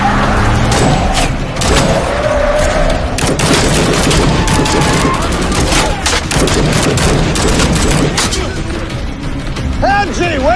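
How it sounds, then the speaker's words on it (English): Dense, continuous gunfire from an action war film scene near a border, with rapid overlapping shots and bursts packed with mechanical clatter, loud throughout and thinning slightly toward the end. "I heard the gunfire!"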